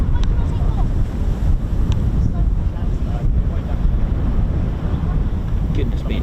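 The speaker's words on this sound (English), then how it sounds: "Goodness me, it's so windy." Strong wind buffets the microphone at an RAF airfield beside runway 12 and taxi holding point Delta 2, a loud continuous roar with gusts throughout and no other clear sounds.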